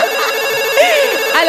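A phone ringtone plays loud and close for a short moment, a continuous electronic tone with rising melodic notes, heard alone on a Marathi comedy stage show.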